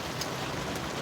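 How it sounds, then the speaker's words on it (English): Heavy rain falls in a steady, dense hiss with no break, close and fairly loud, with no voices over it. "raining pretty hard"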